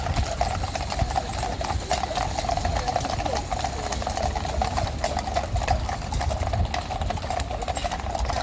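Household cavalry horses clip-clop along a London street near Green Park on their morning ride, a steady stream of overlapping hoof strikes on pavement, fairly close and continuous, with traffic hum underneath.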